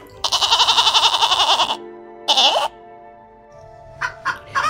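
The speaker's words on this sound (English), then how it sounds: "G for goat." Goat bleating in a long wavering call, then a shorter bleat after a pause, followed by a few faint brief calls; close and clear with no talk.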